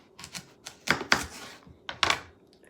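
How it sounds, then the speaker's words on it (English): A knife cutting a paper fraction piece in half on a table in a classroom lesson setting, giving a few sharp close chopping taps with quieter scrapes between them. "getting ready to cut this half in half"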